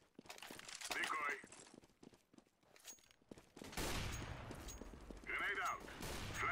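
A decoy grenade in CS:GO gives off bursts of fake gunfire, rattling fusillades that come in waves with a sustained loud stretch, heard over the game's background clatter.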